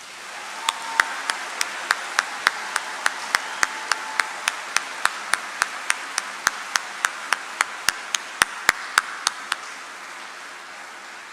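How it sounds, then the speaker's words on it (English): A slow, sparse round of applause at an army band holiday concert, with individual claps ringing out sharply and evenly spaced over a soft bed of quieter clapping in a large hall. "Please join me in a round of applause for these fine patriots."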